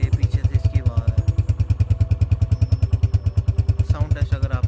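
Exhaust of a 2022 Honda CG125 SE motorcycle, heard from behind the bike, pulses at a steady loud idle with rhythmic thumps, while someone briefly talks over it.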